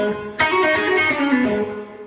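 A fast electric guitar phrase played with distortion and effects: a sharp attack, then ringing sustained notes with bends that hold steady and fade near the end, loud and up close, with no voices.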